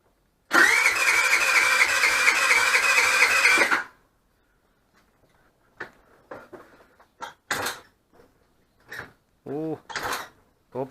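A new four-stroke scooter with 900 km on it is cranked for about three seconds, a loud close whirring buzz that fails to catch, followed by people talking.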